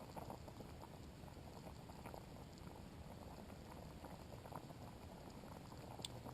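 Lamb and its liquid boil in a pot over a camp stove, a steady close bubbling and popping that runs unbroken and fairly soft throughout, with no voices.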